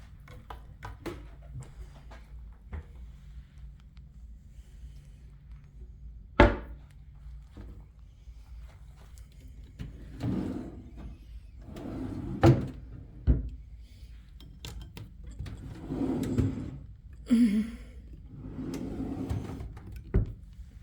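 Drawers and cupboard doors in a hotel room at the DoubleTree by Hilton Newark Airport are opened and shut, giving scattered wooden thunks and sliding knocks of varying loudness, close by, with no talking.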